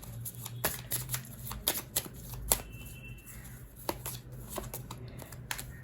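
Tarot cards are shuffled steadily up close, a continuous papery riffle and flutter with sharp slaps between, no voice over it.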